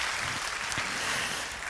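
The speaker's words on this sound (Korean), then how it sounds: "다시 한번 뜨거운 박수로 여러분 격려해 주시기를 부탁드리겠습니다." A church congregation gives warm applause after a Sunday service announcement, a steady wash of many hands clapping throughout, moderately loud, with no speech over it.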